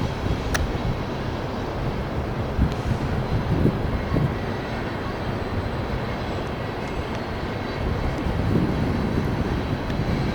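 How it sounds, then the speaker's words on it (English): Loud, steady rumble and clatter of a long coal train rolling past nearby at Cotton Hill, West Virginia, continuous wheel noise throughout with occasional metallic squeals. "I think that's the end of the train."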